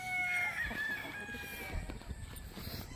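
A white breeder rooster crows with a drawn-out call, then clucks briefly, close by, over a busy farmyard background of other chickens.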